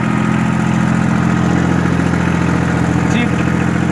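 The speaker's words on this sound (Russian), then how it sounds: "Как вы могли обратить внимание, двигатель работает исправно" Kubota L2402 compact tractor engine idling steadily, a continuous low diesel drone with even mechanical vibration, close and constant throughout with no other sounds standing out.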